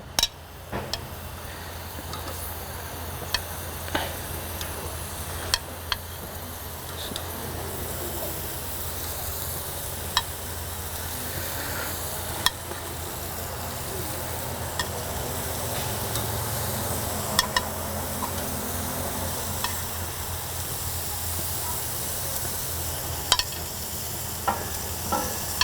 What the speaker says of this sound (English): So I think we're ready to put these on the grill now.